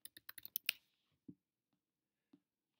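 A computer keyboard: a quick run of about seven crisp keystrokes, then two isolated taps spaced apart in an otherwise quiet room.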